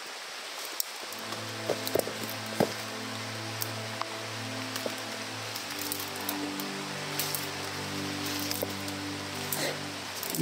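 Heavy rain patters steadily on surfaces outdoors, a dense hiss with scattered louder drops, beneath a low droning hum that shifts pitch partway through.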